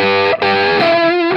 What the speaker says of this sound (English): within this, you get a great sounding analog distortion.